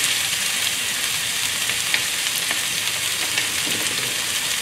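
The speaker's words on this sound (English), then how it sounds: "Vegetable in." Vegetables for moo shu stir-fried in a hot pan, a steady loud sizzle with faint scraping and tossing ticks, close and continuous, no talk.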